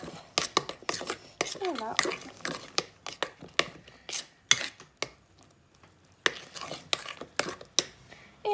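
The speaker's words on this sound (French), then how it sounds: "Donc on mélange." Cherry cake batter, darkened with cherry juice, mixed by hand in a bowl, with repeated sharp scraping and knocking strokes of the utensil, close, while a voice talks briefly between strokes.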